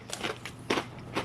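Crisp bites into barbecue-flavoured kettle-cooked potato chips, several short crunchy bursts in close succession, near and fairly quiet with no talking.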